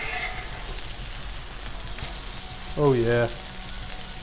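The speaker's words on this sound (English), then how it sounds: "now let's give this bacon a flip here" Thin-cut bacon sizzles steadily on a Blackstone griddle, a constant close crackle and hiss running throughout, with a brief spoken exclamation near the end.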